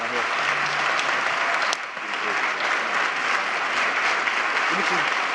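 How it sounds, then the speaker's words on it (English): A large audience at a city's State of the City event claps in sustained, loud applause for an honoree, a dense continuous roar of hands with a brief dip partway through. "Let us all give Anton a round of applause for his contribution to our city."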